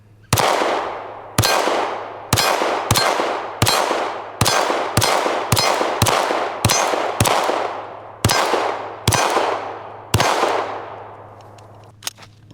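A Glock V pistol fires repeatedly in a torture test, about fifteen sharp, loud shots at uneven intervals, each ringing out briefly over a low steady hum.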